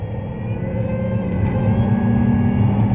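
Supercharger whine from a 2003 Infiniti Q45 Premium under way, a steady tonal whine over engine and road rumble heard from inside the car, loud and continuous.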